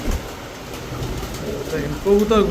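Soft cooing of a Pakistani pigeon sits under a close voice that starts talking near the end.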